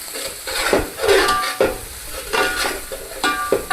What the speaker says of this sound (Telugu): ఇది మొత్తం ఒకసారి మిక్స్ అయ్యే విధంగా కలుపుకోవాలి